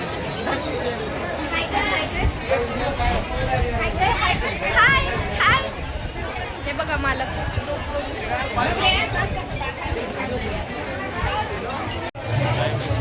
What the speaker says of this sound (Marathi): इकडे सगळीकडे भरपूर गर्दी आहे बघा